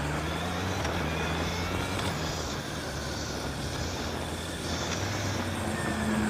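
A 2025 Honda CBR 650R with E-Clutch in hard mode rides under load, its engine note a dense steady roar with faint pitch changes as it moves up through gears, mixed with strong wind rush.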